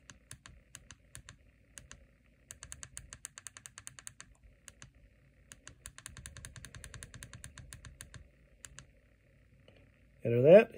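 Buttons pressed on a Eurotherm nanodac controller to enter a password: a long run of quick, light clicks and beeps in bursts, close and clear, with a short louder noise at the end.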